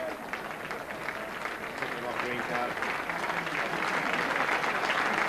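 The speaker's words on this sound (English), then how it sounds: "And the Bradford fans showing their appreciation. A superb round of applause there for little Alex Green" Bradford rugby league fans at a 1995 home match against Doncaster give a sustained round of applause that builds slightly, a broad wash of crowd clapping and noise with a commentator talking over it.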